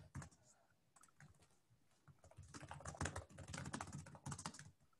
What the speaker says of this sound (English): Would you mind typing the question in the chat